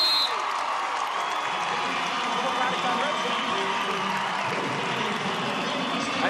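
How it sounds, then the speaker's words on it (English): Crowd noise fills an arena at a college wrestling championship, a broad sustained roar of cheering and applause at moderate distance, with an announcer's voice audible over it. "Let's listen to the crowd."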